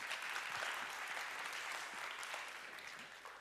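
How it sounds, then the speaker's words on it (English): An audience at a geometry talk gives a round of applause, a dense, steady patter of many hands clapping that sounds slightly distant and tapers off gradually. "A round of applause for Stanislav."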